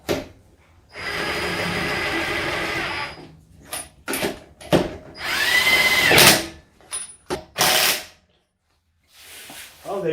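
A power tool tightens lug nuts on 37-inch wheels of a 2020 Jeep Wrangler JL EcoDiesel, with several loud close whirring bursts of varying length separated by short pauses.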